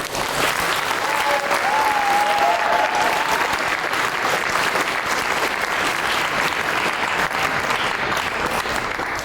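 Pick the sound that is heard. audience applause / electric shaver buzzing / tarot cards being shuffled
audience applause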